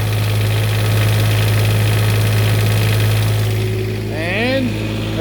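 Portable generator engine running steadily under a 1,500 watt heating element load, a loud continuous low hum with a faint rising whine near the end.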